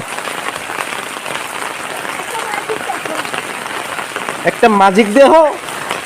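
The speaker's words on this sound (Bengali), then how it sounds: "বৃষ্টি তো এখানে আরো বেশি পড়তেছে" Heavy rain falls outdoors near a lychee tree in a steady, dense hiss, and a person starts talking near the end.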